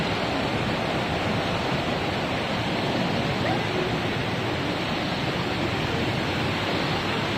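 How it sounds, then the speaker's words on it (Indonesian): Below a bamboo-forest camp, a river flows as a dense, unbroken roar of moving water, loud and near, constant from start to finish with no voices over it. "Di bawah itu adalah sungai."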